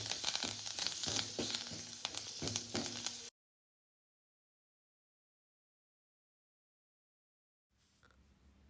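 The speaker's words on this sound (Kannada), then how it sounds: "ಕರಿಬೇವನ್ನ ಆ್ಯಡ್ ಮಾಡ್ಕೋತಾ ಇದ್ದೀನಿ." Curry leaves, mustard seeds and garlic sizzle in hot tempering oil for an ivy gourd sambar, giving a crackling frying hiss for about three seconds before it cuts out, then returns faintly at the end.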